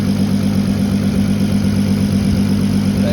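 MK5 VW Golf R32 engine with a suspected cracked head or head gasket and oil in the coolant, idling with a steady, loud low rumble that holds constant throughout.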